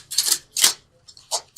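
Angel oracle cards shuffled by hand in a few quick, crisp riffling bursts with short pauses between them, close and fairly quiet, with no talking.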